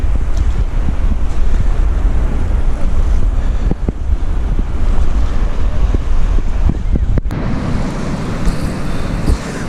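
Strong wind buffets the microphone on an open beach at Mappleton in December, with broadband surf and waves rolling steadily underneath; loud and constant, no talk.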